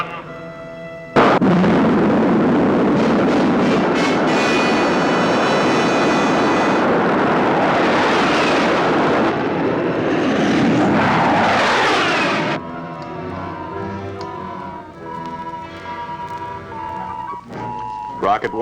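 A rocket launches after a countdown: a loud, sustained roar fills more than ten seconds and then drops to a lower rumble with tonal elements.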